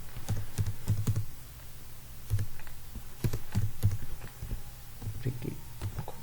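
Rapid bursts of computer keyboard typing while a C program is written, close and clear, in uneven clusters of quick keystrokes with short pauses between.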